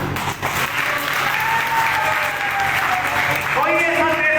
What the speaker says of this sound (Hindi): तालियों की अब बारी है